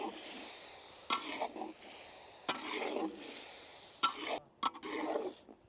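A spoon scrapes around a pan in several distinct strokes as a thick brain masala curry bubbles and sizzles softly underneath, close and fairly quiet.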